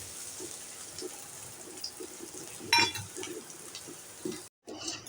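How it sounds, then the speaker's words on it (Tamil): Finely chopped onion in hot oil gives a soft, continuous frying crackle under a brief metallic clink of stirring, close and moderately quiet, with a short cut near the end. "ஒரு மீடியம் சைஸ் பெரிய வெங்காயம் பொடிசா அந்த மாதிரி கட் பண்ணி எடுத்து வச்சுருக்கேன் அதை வந்து சேர்த்துடலாம்"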